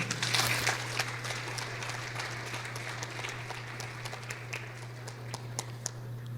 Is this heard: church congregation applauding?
yes